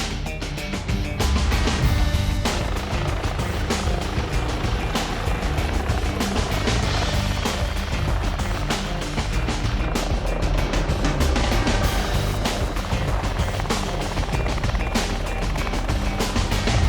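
A medical transport helicopter coming in to land, its loud, continuous rotor thrum and turbine roar filling the whole stretch close by, with no speech over it.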